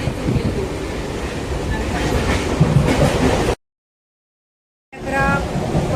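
A Mumbai local train runs along the track with a loud, steady rumble and rhythmic clatter, cut off abruptly by a short stretch of silence before the rolling noise resumes.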